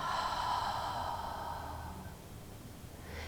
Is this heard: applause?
no